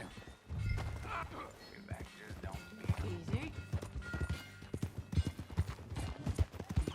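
Hooves clip-clop at a trot in Red Dead Redemption, growing busier and more rhythmic, with someone speaking briefly and a horse's snort near the start.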